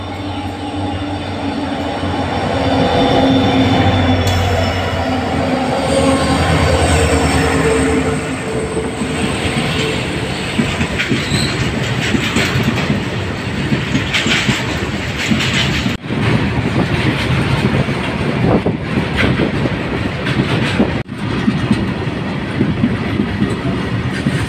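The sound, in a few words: goods train crossing at station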